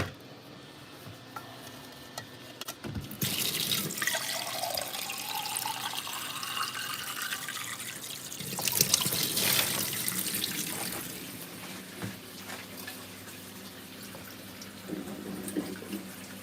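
Tap water runs into a container for a fish dish being slow-cooked in a small oven in Japan, a steady splashing flow that shifts in pitch as the vessel fills, with a second burst of running water partway through and faint kitchen clatter.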